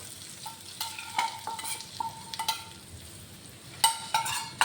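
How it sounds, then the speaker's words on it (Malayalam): Ginger and onion sizzle in hot oil, already seasoned with cloves, cardamom and star anise, while being made into a liver fry. Quiet crackling and frying carry steady stirring, with several sharp scrapes and clinks of a utensil against the pan. "അപ്പോൾ ഈ എണ്ണയിലൊന്ന് മൊരിച്ചെടുക്കാം നമുക്ക്"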